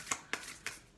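A deck of oracle cards gets a quick shuffle: three soft, crisp riffling flicks in about a second, close and faint.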